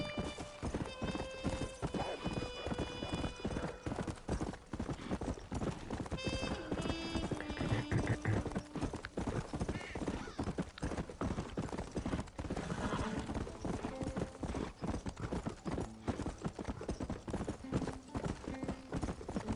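Galloping horse hooves clip-clop rapidly and continuously during horsebreaking in Red Dead Redemption, with repeated whinnies and neighs rising over the hoofbeats and a game music bed underneath, close and loud.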